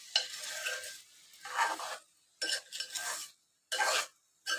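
A cauliflower and potato curry with spices in hot oil is stirred in the pan in four separate bursts of scraping and gentle sizzling, with short quiet gaps between them and no voices.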